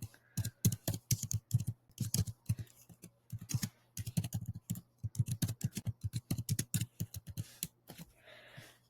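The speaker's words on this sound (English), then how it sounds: "So I'm going to type that in." Fast typing on a computer keyboard, bursts of crisp close key clicks in an uneven rhythm with short pauses between words, no voices.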